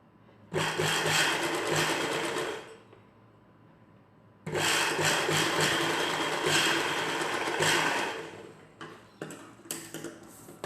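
A sewing machine stitches a blouse in two long, loud, steady runs separated by a short pause, then several quick stop-start bursts, close by with no talking.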